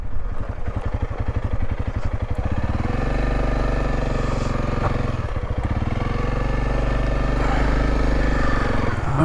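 A Honda CRF300L dual-sport motorcycle rides an off-road trail down Hellhole Pass in Utah's Beaver Dam Mountains, its single-cylinder engine loud and close, revving and chugging with a shifting pitch and some clatter.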